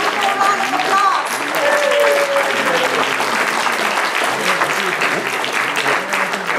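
A crowd at a state senator's victory celebration gives a dense, steady round of applause, loud and continuous throughout, with voices mixed faintly into the clapping.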